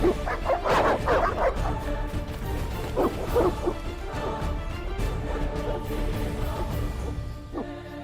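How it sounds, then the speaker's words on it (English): Dogs in The Witcher game bark, yip and whimper in a loud, agitated burst that settles into lower, scattered growls and yelps against a murky ambient backdrop. "Evil dogs. Run!"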